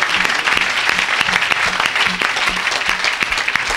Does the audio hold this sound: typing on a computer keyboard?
no